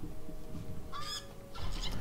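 Bird calls in Age of Mythology: two short honking, goose-like cries, fairly close and separated by a brief pause, over low game ambience.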